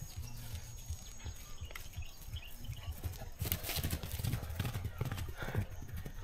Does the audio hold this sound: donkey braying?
yes